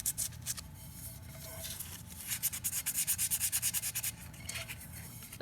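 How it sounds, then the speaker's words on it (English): Sandpaper rubs over an epoxy-coated glitter cup, with scattered scrapes at first and then a fast run of rhythmic back-and-forth strokes, close and clear without talk. "now we've got our cup sanded"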